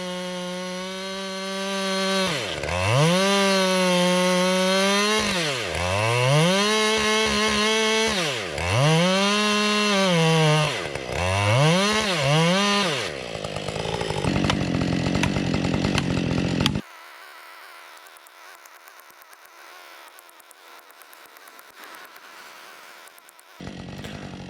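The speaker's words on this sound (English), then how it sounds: "This is my Husqvarna 390 XP with a 16-inch bar and a chisel chain." A Husqvarna 390 XP chainsaw with a 16-inch bar and chisel chain revs loudly in several rising and falling surges while cutting a tree, then settles into a steady high whine before dropping to a quieter idle.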